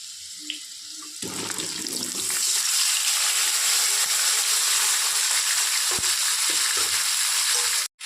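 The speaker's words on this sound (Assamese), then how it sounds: "এতিয়া আমি মেৰিনেট যে কৰি থৈছিলোঁ চিকেনখিনি আৰু আলু কাটি থৈছিলোঁ, সেয়া এতিয়া ইয়াত দি দিম" Marinated chicken pieces and cut potatoes drop into a pan of frying onion, setting off a sudden loud, sustained hissing sizzle that holds steady up close, with a few soft stirring knocks, then cuts off abruptly.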